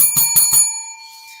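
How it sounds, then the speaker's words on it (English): A small bell, like a bicycle bell, is struck three times in quick succession, bright and close, then rings out and fades over about a second with no talking. "I'm going to hit the bell"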